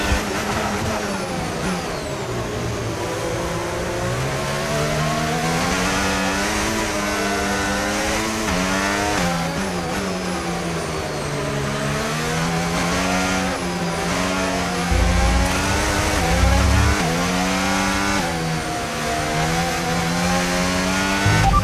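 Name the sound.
racing car accelerating in a video game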